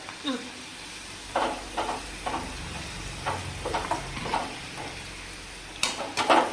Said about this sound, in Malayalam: ഇനി പപ്പടം വറുത്തെടുക്കാം.